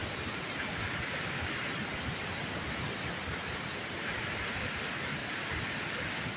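A waterfall beside a farmyard keeps up a steady, broadband rush of falling water, loud and unbroken throughout.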